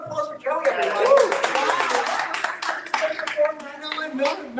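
Audience applause for a singer after a live number, dense clapping that fills the clip, with voices talking over it at times.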